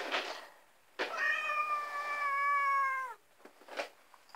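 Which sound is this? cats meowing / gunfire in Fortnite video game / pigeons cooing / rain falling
cats meowing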